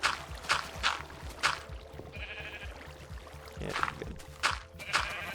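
Sheep in Minecraft bleat several times in short, nasal calls spread across the stretch, over steady background game noise, with a brief voice speaking at one point.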